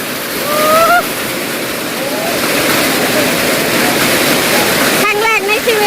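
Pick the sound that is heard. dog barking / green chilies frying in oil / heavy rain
heavy rain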